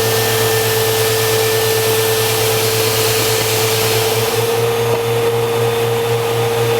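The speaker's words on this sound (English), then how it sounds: "we're going to go ahead and demonstrate the proper way on how to start the blaster" An IMPACTS S210E 40R shot blaster runs with a steady, loud machine drone and a constant low hum, holding even throughout with no pause or talk.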